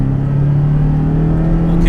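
Porsche Cayman with PDK gearbox pulling hard on a race circuit, a steady loud engine drone with a strong low tone, continuous for the whole stretch.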